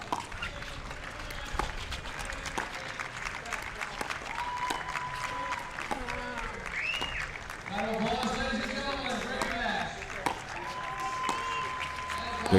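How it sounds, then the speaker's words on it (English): Crowd at a professional pickleball doubles match, APP Tour Delray Beach Open, applauding and cheering steadily throughout, with commentators talking over the noise. "Crowd letting them hear it."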